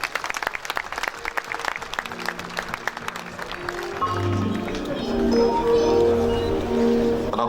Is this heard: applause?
yes